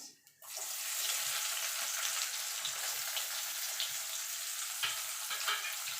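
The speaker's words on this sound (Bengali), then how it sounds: "এবার পেঁয়াজটা একটু ভাজা ভাজা করে নেব।" Onions fry in hot oil for a Bengali mutton curry with potato, giving a steady, close hiss of sizzling with faint crackles and occasional light stirring, with no voices.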